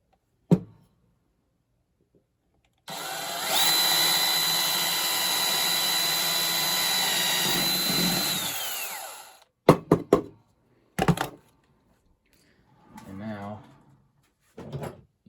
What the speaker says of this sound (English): Just kind of have to see where I'm drilling